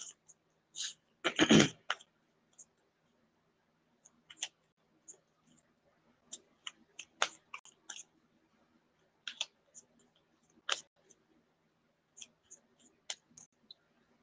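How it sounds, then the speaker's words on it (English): A single muffled cough or throat clear rises early, followed by sparse clicks and small knocks scattered through a quiet room. "Did you hear me cough? So I questioned, was I clearing my throat?"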